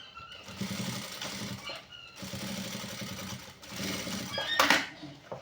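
A sewing machine runs stitching pant fabric for pencil-cut full trousers, its motor chattering in steady bursts with short pauses between runs, close and fairly loud with no talking.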